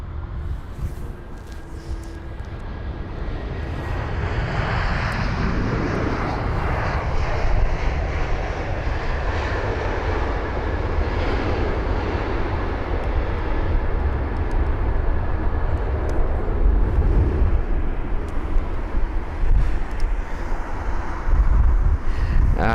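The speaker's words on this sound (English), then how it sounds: "that's going to be the Airbus A320 neo aircraft in the shot now, is arriving from Newcastle" Airbus A320neo jet arriving at London Heathrow, a steady loud engine roar that swells over the first few seconds and then holds as the aircraft passes, heard alone without talking.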